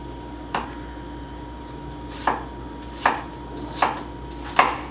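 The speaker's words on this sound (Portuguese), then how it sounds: "Pica ela grosseiramente mesmo." Half an apple being coarsely chopped with a knife on a board, five separate crisp cuts at uneven intervals over a quiet room hum, close and with no speech.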